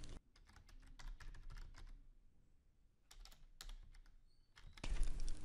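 Typing on a computer keyboard while writing STM32L4 QuadSPI code, close bursts of rapid clicking keystrokes separated by short pauses.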